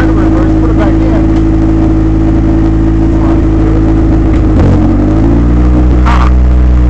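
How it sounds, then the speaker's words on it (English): An 89 Honda CRX HF engine, near and loud, holds a steady high rev with strong harmonic drone, then drops and shifts pitch as it settles back, with a brief voice near the end. "the engine light comes on and it revs up really high"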